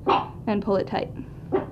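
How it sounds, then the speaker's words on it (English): An excited pet dog barks indoors in a home, several quick barks and yips mixed in with a person talking close by. "Excuse my dog barking"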